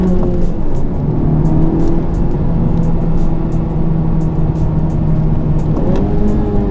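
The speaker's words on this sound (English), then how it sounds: "as a demonstration of the engine and the handling, let's go ahead and take a little fun drive here" A Honda Civic Type R engine hums steadily at moderate revs while driving on back roads, with a brief rise in pitch near the end as it accelerates.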